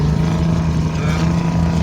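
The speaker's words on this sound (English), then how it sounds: "The M548, the one I'm complaining about the engine noise." A steady, loud engine drone from an M548 tracked cargo carrier, with a constant low hum and rattling mechanical noise throughout, close by and unbroken.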